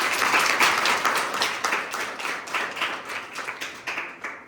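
A crowd at a village assembly applauds a woman, dense clapping that stays loud and steady before thinning slightly toward the end, with no talk over it.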